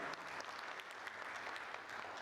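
A large audience applauds a panel discussion at a food and nutrition event in India, steady dense clapping heard at a distance with no talk over it.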